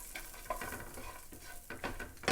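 Tofu and mushroom fried rice simmering in a pan, a continuous soft sizzle with a few scraping stir strokes, close and moderately quiet, with no voice present.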